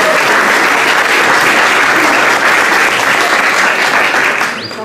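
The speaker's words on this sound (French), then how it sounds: "Je vous demande quand même un tonnerre d'applaudissements pour elle" Thunderous applause fills a reception for Miss France, with a large crowd clapping loudly and continuously, a dense unbroken roar that dips slightly only at the very end.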